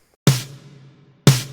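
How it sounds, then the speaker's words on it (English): Two sharp snare drum hits about a second apart, each a loud crack with a short buzzing decay, played alone as a demonstration of the snare in a drum breakdown. "Snare sounds like this."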